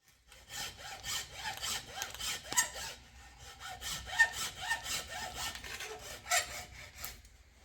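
Saw strokes rasp through a wooden axe handle to free the axe head, a steady back-and-forth rhythm of close, scratchy cuts with brief pauses, no voices.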